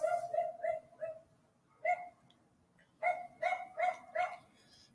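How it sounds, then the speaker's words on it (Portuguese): A dog barks nearby during an online class session. A run of four quick yaps is followed by a single bark, then four more in a row, all somewhat faint and slightly distant-sounding. "Tem cachorro aqui perto."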